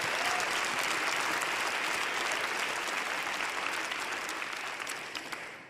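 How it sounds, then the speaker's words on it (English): A conference audience claps in sustained, dense applause at close range, holding steady and then tapering slightly at the end. "Please do give them a round of applause."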